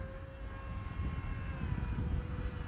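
A Hobbyzone Aeroscout RC airplane's propeller motor drones thinly at a distance, holding a steady whine with slight pitch drift as the plane is throttled back for landing.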